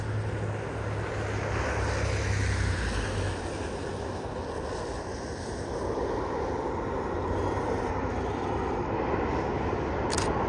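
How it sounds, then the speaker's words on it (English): A Delta Embraer E175 jet arriving at Reno airport on a snowy winter day roars steadily overhead, a broad sustained engine rumble and whine of moderate loudness holding throughout. "Delta E-175 arriving from the non-stop service to Salt Lake City International Airport"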